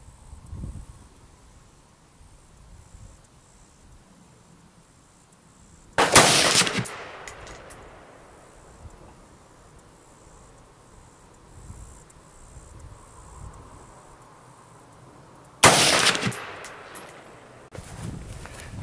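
Two loud, sharp rifle gunshots ring out at an outdoor shooting range, spaced about ten seconds apart, each with a brief echoing tail over quiet rustling background.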